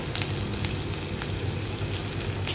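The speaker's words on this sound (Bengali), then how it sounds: "একটু নেড়ে ছেড়ে ভালো করে ফ্রাই করে নেব।" Chopped garlic, ginger and green chilli frying in hot oil, a steady close sizzle with soft crackling pops throughout and no talking.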